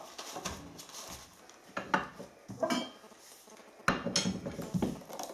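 Quiet crunching and cracking as peppercorns are crushed, in a few irregular bursts close up with no voices.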